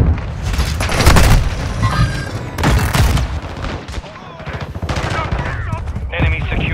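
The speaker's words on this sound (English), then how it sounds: "Throwing stun grenade." Loud bursts and booms from a Call of Duty Modern Warfare II Domination match on the Dome map, with a stun grenade blast among rapid gunfire; several heavy impacts over sustained shooting.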